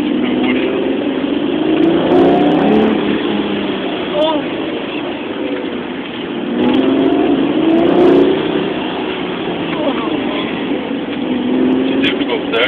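Lamborghini Murcielago LP640 engine heard from inside during a ride, a loud droning roar that swells with acceleration in several waves and eases between them, with people talking over it.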